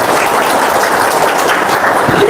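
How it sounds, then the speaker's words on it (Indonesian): Applause from a crowd at an Indonesian talk or seminar, a dense, steady patter of many hands clapping throughout, loud and close. "Tepuk tangan."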